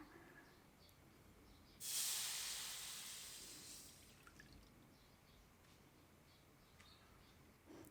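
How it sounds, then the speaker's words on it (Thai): Coconut cream in a pan gives a sudden burst of hissing steam that fades over a couple of seconds, leaving a quiet bubbling simmer with faint ticks and pops. "เคี่ยวจนหัวกะทิเดือดดีแบบนี้นะคะ"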